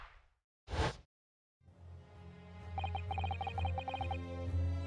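A Venus special firework from a video game goes off as a short loud bang, followed by a sustained crackling burst with bright sparkling tones, heard alone without speech.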